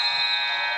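A basketball game-end buzzer in a high school boys' gym blares as one steady, loud electronic tone that holds for under a second.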